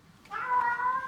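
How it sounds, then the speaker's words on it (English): A kitten meows once, a short, clear, drawn-out cry heard up close in a quiet indoor room. "Sorry if you hear some meowing."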